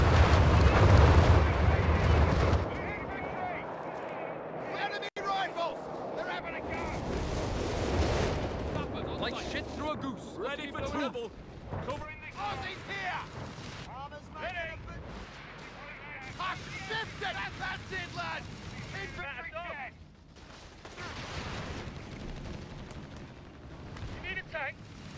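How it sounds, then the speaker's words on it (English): An artillery barrage in Company of Heroes 3 opens with a heavy, loud rumbling blast, followed by scattered booms, gunfire and battle noise, with a voice talking over much of it. "Artillery barrage on the way."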